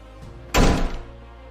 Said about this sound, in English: I slammed the door.